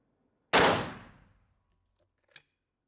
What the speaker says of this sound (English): So now we're going to fire the half choke and see how that goes.